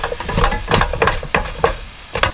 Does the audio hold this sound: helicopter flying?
no